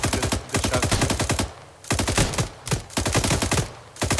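Rapid machine-gun fire in the Arma 3 video game rattles in long sustained bursts separated by brief pauses, loud and close.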